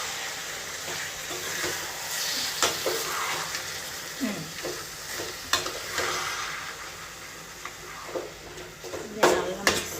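Chopped tomatoes stirred and fried in a hot pan, a continuous close sizzle broken by repeated scraping strokes of a spoon against the pan and a few sharper clinks.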